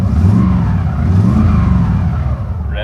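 A Chevrolet C10 squarebody pickup with a four-speed holds a steady, loud engine rev, its low harmonic drone sustained throughout with no voices.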